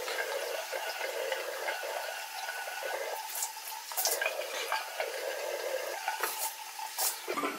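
Lukewarm tap water runs steadily while a face is being rinsed, a close continuous splashing rush with brief louder surges of spattering as hands move through the stream.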